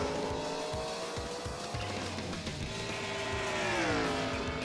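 A stock car engine roars steadily at Atlanta in a sim racing game, with rising and falling pitch as the car shifts and runs the oval, loud and continuous with tire noise, no talking.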